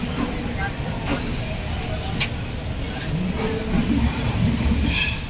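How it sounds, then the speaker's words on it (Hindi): Magadh Express, a superfast Indian Railways train (20802), running at night: a steady loud rumble of wheels and carriage noise, with a brief high squeal partway through, heard from inside the moving train. "और ट्रेन चल पड़ी है"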